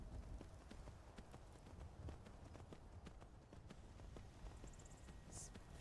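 Horse hooves clip-clop in a steady running rhythm as a mount crosses terrain in the video game Skyrim, continuous and fairly close, with a brief chime near the end.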